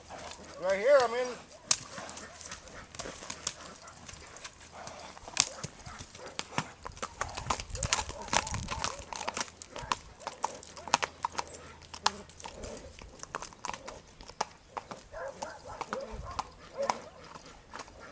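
Horse hooves clip-clopping steadily on an asphalt road, close and fairly loud, with a brief whinny near the start and faint voices in the background.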